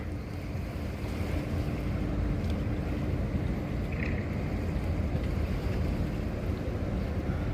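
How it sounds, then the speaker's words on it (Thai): A passenger boat passes on the river beside a waterside landing, its low engine rumble and wash forming a steady broad drone, mixed with wind buffeting the microphone and no one talking. "โห สวยครับเรือผ่านพอดีเลย"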